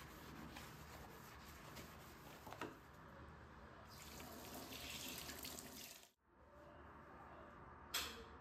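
Water runs steadily from a kitchen tap into a sink while dishes are washed, a continuous close splashing stream with a brief cutoff partway through before the flow resumes.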